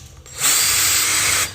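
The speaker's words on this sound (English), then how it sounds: "Let me pre-drill for a second." A power drill pre-drills a screw hole in a wall during a music studio build: one steady, loud, close whine lasting about a second, starting and stopping sharply, with no talk.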